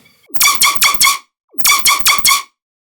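Screechy laser-like dubstep synth patch built in Serum, played without a sub bass: two bursts of four sharp, bright, descending zaps each, loud and alone, separated by a short gap.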